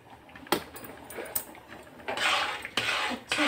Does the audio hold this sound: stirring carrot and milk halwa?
yes